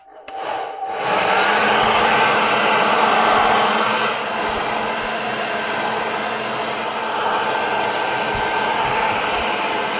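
A hair dryer starts up and runs with a loud, steady whirring roar, easing slightly in pitch partway through, close by, used on heat-shrink tubing while assembling a LiFePO4 battery.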